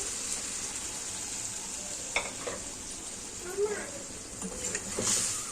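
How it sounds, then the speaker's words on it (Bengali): Ghugni, a dried pea curry, goes into spices already fried in a pan, giving a steady close sizzle with scraping stirs and small clatters, no talking. "আর এখন ভাজা হয়ে গেছে, তাই এর ভিতরে ঘুগনিটাকে আমি দিয়ে দিচ্ছি"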